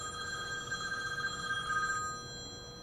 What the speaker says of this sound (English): And that's my cell phone, which is normally on vibrate.